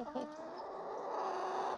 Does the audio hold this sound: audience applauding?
no